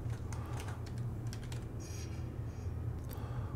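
Typing on a computer keyboard while setting up weather presets for Microsoft Flight Simulator 2020, heard as a run of light, quick clicks over a steady low background hum, close and fairly quiet.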